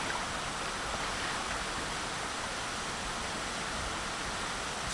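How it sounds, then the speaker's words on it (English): A small stream flowing out from a tall waterfall in Atenas, Costa Rica: a steady, loud, broadband rush of water with no breaks and no voices. "So this is the little stream that comes from that waterfall."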